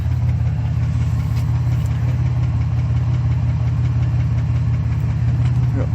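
A Chevrolet Malibu engine idles loudly and steadily, a low rumbling drone that runs throughout with slight unevenness, stumbling as if about to stall.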